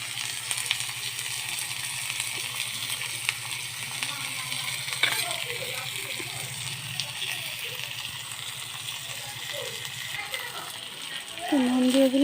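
Chopped onion, garlic, green chilli and turmeric frying in a pan, a steady close sizzle with occasional stirring scrapes and a brief clatter near the end.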